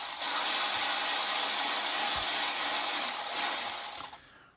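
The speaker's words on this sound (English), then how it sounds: "I've moved back up top to remove the 3 bolts from the downpipe that attaches to the turbo" A tool works on the bolts holding a Mini Cooper S turbo downpipe, producing a loud, steady, noisy grinding whir for about four seconds before cutting off, with a faint knock midway and no speech.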